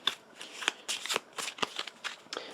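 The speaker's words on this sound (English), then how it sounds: "Oop, her deck is dry. We're going to have to shuffle up." A deck of playing cards is shuffled during a cooperative Hero Realms card game, a series of quick crisp riffles and snaps in short bursts, close and alone.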